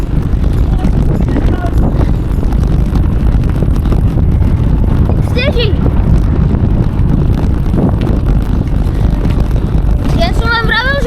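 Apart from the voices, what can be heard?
strong wind during a storm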